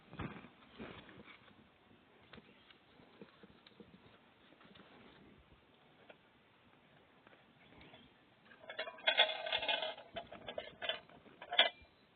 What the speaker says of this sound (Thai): ได้ยินเสียงฝูง วัวชาวบ้านเข้ามากินหญ้าอยู่บุหญ้าคาตรงนี้แล้วครับ